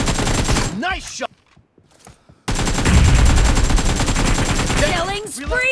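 Rapid automatic gunfire in BGMI (PUBG Mobile) team deathmatch, dense loud bursts broken by a brief near-silent gap, with game voice callouts mixed in.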